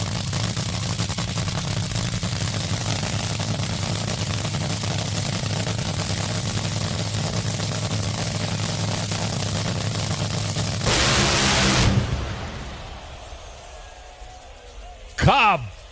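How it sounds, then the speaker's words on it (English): Top Fuel dragster at full throttle during a Round 2 elimination solo run, a loud sustained roar that suddenly bursts and cuts off as the supercharger blows off, then fades to quiet with a brief sharp noise near the end. "Steve Torrence blows the blower off of it at about 1 second out"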